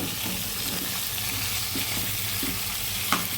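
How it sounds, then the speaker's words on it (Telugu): Chicken pieces added to a curry of onions and green chilies, sizzling steadily in the pan with a few soft stirring scrapes and a small clink near the end. "చికెన్ని శుభ్రంగా కడుక్కొని కర్రీలో వేసేసాను"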